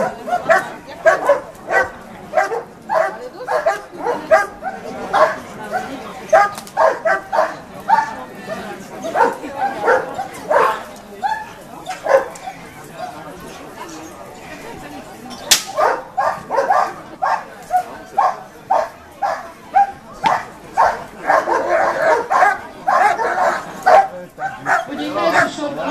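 Dogs bark in a long series of sharp, rhythmic yips and bow-wows at a dog training demonstration, loud and close, with brief pauses between bursts and someone talking over them.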